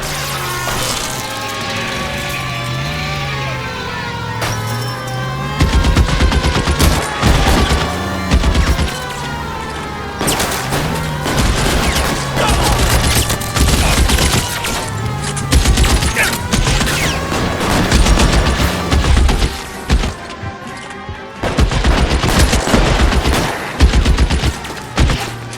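Sustained gunfire in L.A. Noire, a 1940s Los Angeles detective shootout, with dense volleys of loud shots and crashes running steadily after a quiet opening, over music and a rising background tone.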